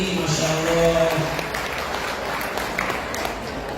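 An audience at a religious lecture breaks into applause that is loudest at the start and settles into steady clapping, with a voice speaking over it early on.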